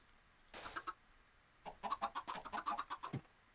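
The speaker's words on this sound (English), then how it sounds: "So some loved up chickens there." Chickens cluck close by on a farm: a short burst of clucks, a pause, then a longer, busier run of overlapping clucking calls.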